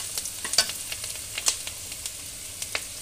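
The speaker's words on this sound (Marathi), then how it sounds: "आता आपण त्यात हिंग घालून घेणार आहोत." Asafoetida dropped into well-browned fried onions in a pan at home, giving a steady soft sizzle broken by light stirring clicks and scrapes, close and moderately quiet, with no voices.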